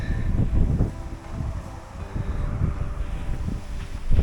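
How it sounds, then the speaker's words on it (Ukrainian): Gusty wind buffets the microphone in uneven low rumbles and thumps beside a fishing pond, with faint background noise and no voices. "Сьогодні, правда, вітер, тож напевно буде трошки шуміти."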